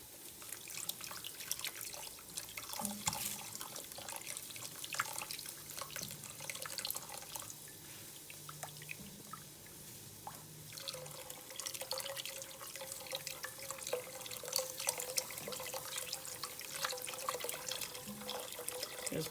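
Liquid pours and drips into a pot of green chili on the stove, a faint, uneven trickle and splash with scattered clinks, quiet and steady over about twenty seconds.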